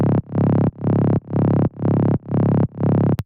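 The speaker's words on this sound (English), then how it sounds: "So it's just this DS saw and tri wave, 3 voices of unison" A lone synth bass layer built from a saw and triangle wave with three-voice unison, slight detune and pitched two octaves down, playing five long, buzzing, evenly spaced notes, loud and upfront.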